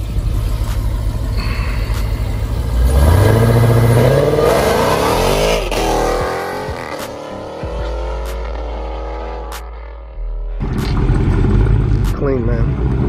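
A 1,000-horsepower Jeep Trackhawk engine revs hard nearby, climbing in pitch, dropping back and surging again in repeated loud blasts, with people talking around it.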